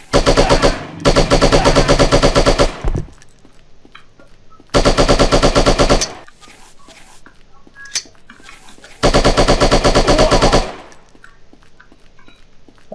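Loud bursts of rapid automatic gunfire in the shooting video game Striker, three long volleys separated by quieter gaps with scattered clicks and small effects.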